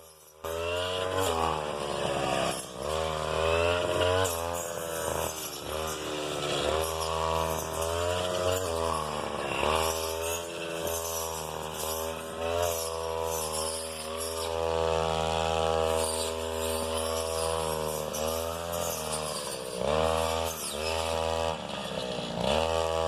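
A motorized power cutter prunes tea bushes on a plantation in Gudalur. Its loud, buzzing two-stroke engine rises and falls as it revs through cuts for the whole stretch, close by and with no talking.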